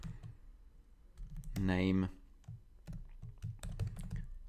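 Computer keyboard keys are typed in quick light clicks while code is entered, with a voice talking over the typing throughout.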